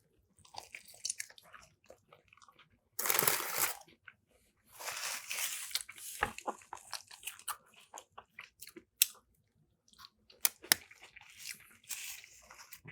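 Soft chewy cookie being eaten close to the mic during a Subway mukbang, with a run of moist bites, squishy chewing and smacking, broken by brief pauses and a few sharper clicks.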